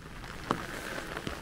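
Steady rain patters on leaves in a forest during a September mushroom hunt, a faint even hiss with a few louder drips and crackles close by, and no talking.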